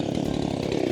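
Small gasoline chainsaw running with a rough buzzing drone right after a pull-start with the choke, close and fairly quiet throughout one short second.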